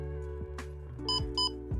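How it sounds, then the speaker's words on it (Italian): A CampSnap retro screenless digital camera powering on gives two short electronic beeps close to the mic, over a steady low hum, with no one talking. "hai sentito bip bip perché si è accesa e ha un counter"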